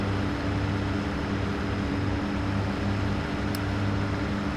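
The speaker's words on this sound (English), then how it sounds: "And the turbo is whistling like mad" Loud tractor engine droning steadily with a nice chrome exhaust, the turbo whistling hard above the roar, continuous and close throughout.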